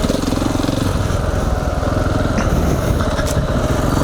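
A KTM 690 Enduro single-cylinder engine running steadily while the bike is slowly turned around on a trail, a loud, close, throbbing drone with slight variations in revs.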